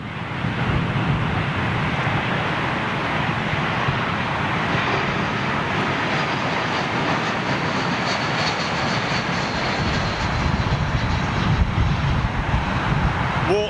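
An airliner lands at London Heathrow with its lift dump spoilers deployed, making a loud, sustained broadband jet roar that holds steady throughout and swells slightly near the end.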